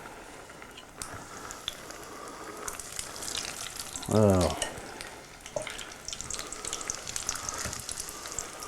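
Scoops of cookie dough drop into hot oil and set off a close, frothy sizzle that swells briefly mid-clip, amid kitchen clatter while a person talks.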